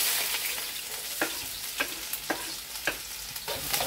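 Onion fries in hot oil with a steady, bright sizzle, broken by several soft stirring scrapes at roughly half-second intervals; close and fairly loud.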